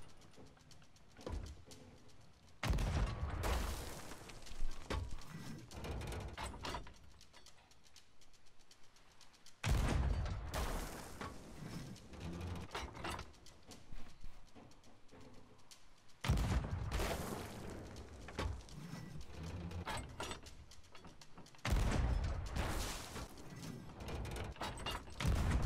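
Cannon fire in the pirate video game Sea of Thieves: four loud, heavy booming blasts, each with a long rumbling tail, spaced several seconds apart with quieter ocean ambience between.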